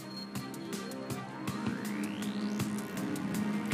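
Wailing siren from ambulances at a protest blocking a Paris motorway, rising in pitch over steady traffic noise, loud and continuous with repeated sharp horn-like pulses.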